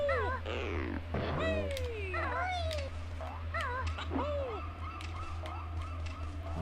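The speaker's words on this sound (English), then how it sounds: "the music cuts out and all you hear is like the wind gushing and the seagulls" Squawking gull cries repeat over a steady low wind rush in the Banjo-Kazooie level Rusty Bucket Bay, several calls overlapping at moderate distance with no music.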